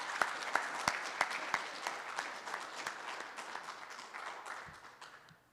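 Audience at a band and choir banquet applauds a student, with a few sharp close claps standing out early, then a thinning, fading round that dies away by the end.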